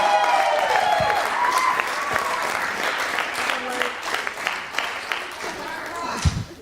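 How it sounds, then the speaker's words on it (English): Wedding guests applaud for the father of the bride as he comes up to speak, a full round of clapping that fades into scattered claps while people talk nearby. "Give him a big round of applause."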